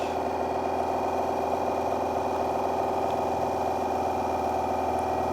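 A rebuilt 1982-84 Harley Sportster 65B generator spinning with no load at about idle speed on a test rig, giving a steady, even mechanical hum and whir throughout, close and constant.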